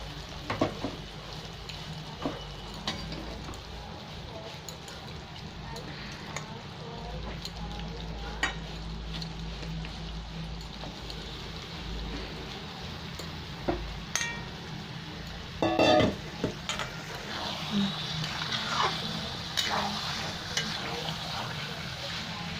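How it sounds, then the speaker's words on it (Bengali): Chicken pieces marinated in yogurt, Kashmiri chili, red chili, turmeric and salt sizzle steadily in hot spiced oil for biryani, a continuous frying hiss with occasional clinks of a stirring spoon against the pot. "এবার আমি চিকেনগুলো সব তুলে দিলাম।"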